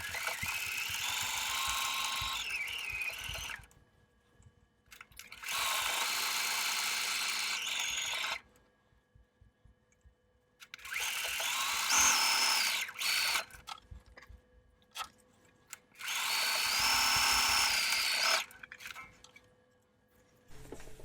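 A sewing machine top stitches a fitted fabric face mask with dart and gusset, running in four steady whirring bursts of a few seconds each, separated by short quiet pauses.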